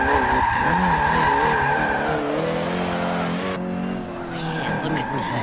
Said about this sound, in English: I'm gonna attempt to drift this corner right here.